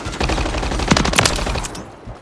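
Rapid automatic gunfire rattles in bursts during a Call of Duty: Modern Warfare 3 match on the Rust map, with sharp close shots layered over continuous firing.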